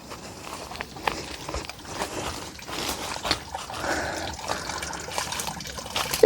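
Water from a small spring runs from a tank with holes in its bottom on a garden plot, trickling and gurgling steadily with faint rustling and footsteps nearby.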